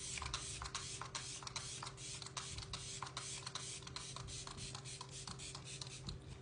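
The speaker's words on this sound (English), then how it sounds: "this is the Makeup by Mario Surreal Skin Soft Setting Spray" Makeup by Mario Surreal Skin Soft Setting Spray misting close up, a steady breathy hiss broken by quick repeated pulses, with no talking.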